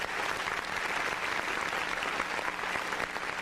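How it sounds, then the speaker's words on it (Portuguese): Applause from a school class audience after a student is introduced, a steady wash of clapping lasting a few seconds at moderate volume, with no speech over it. "Salva de palmas para a Larissa."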